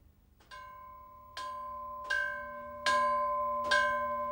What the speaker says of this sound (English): The old bells are still used to signal arrivals.